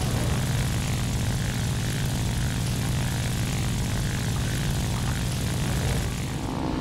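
Propeller aircraft engine in the War Thunder video game, a loud continuous droning roar with a dense buzzing texture that holds steady throughout before easing slightly at the end, with no talk.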